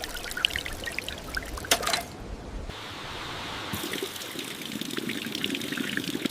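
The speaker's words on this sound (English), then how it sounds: "A public fountain." Water from a public fountain pours and splashes in an uneven stream, close and moderately loud, briefly breaking off before trickling on with a steady, hissing flow.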